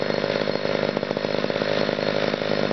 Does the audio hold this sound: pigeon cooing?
no